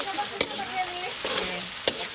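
Garlic fries and is stirred in a pan in an outdoor garden kitchen, a soft steady sizzle broken by two sharp scraping clinks of the utensil.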